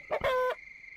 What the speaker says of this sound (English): there are chickens here. There are roosters. Rooster and 3 hens.